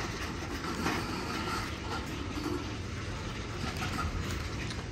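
A Norfolk Southern freight train backs into the Elkhart hump yard in Indiana, a faint, continuous low rumble with soft rail clatter, distant and unchanging, and no talking.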